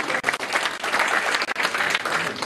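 An audience at a political presentation of election candidates applauds steadily, dense crowd clapping filling the room at a loud, even level throughout.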